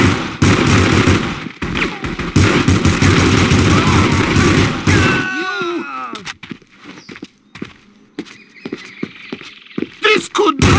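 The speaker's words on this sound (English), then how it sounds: "I hear gunfire!" Dense rapid gunfire crackles loudly for several seconds amid game effects and shouting in The Punisher video game, then gives way to scattered shots and clatter.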